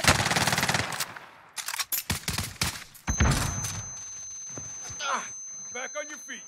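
Bursts of automatic gunfire and single shots ring out during a Call of Duty Warzone match, close and sharp with brief pauses between volleys, while players talk over voice chat.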